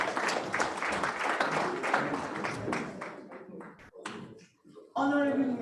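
Audience applause at a formal tax appeal tribunal event, a dense wash of clapping across the room that thins out after about three seconds, followed by scattered claps, shuffling and a sudden louder burst near the end.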